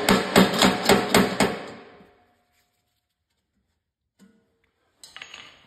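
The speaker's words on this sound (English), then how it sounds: "Go ahead and grab a small hammer. We're gonna hammer that down just a little bit." Six sharp metallic hammer strikes with a small hammer flattening a burr on a snowblower scraper blade, quick steady rhythm, loud and close, then silence with a faint tap and a brief clatter at the end.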